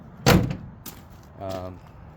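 Door of a 1965 Chevy C10 pickup being shut, one close metallic thud followed by a second softer clunk, with a brief voice.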